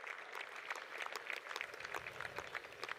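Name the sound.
crowd applauding at a baseball game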